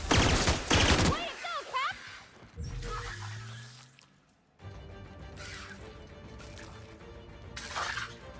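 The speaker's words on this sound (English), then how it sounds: "Gosh, that guy's shooting fireballs." Fireballs launched by an enemy in The Outer Worlds burst in a loud, crackling barrage, then give way to quieter whooshing and humming game sounds.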